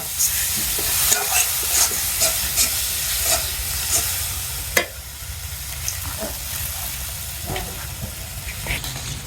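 Spices sizzle and hiss in hot oil with scattered crackles and occasional stirring clatter, steady and close throughout.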